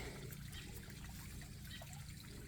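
Drip irrigation line watering garden plants, including dahlias, a steady soft trickle of water running continuously at low level, close by, with no voices.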